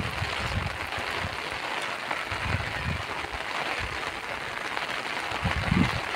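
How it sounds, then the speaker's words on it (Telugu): Steady rain falls outdoors among mango trees during a power cut, a dense, even hiss of drops on surfaces that continues without a break, fairly loud and close. "వర్షం సౌండ్ భలే ఉంటుంది కదండి."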